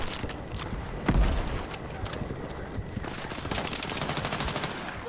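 Rapid automatic gunfire from close-range combat in the video game Battlefield 6 rattles in dense bursts, with one heavier bang near the start and continuous shots throughout.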